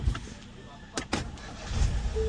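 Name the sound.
Ford Explorer engine starting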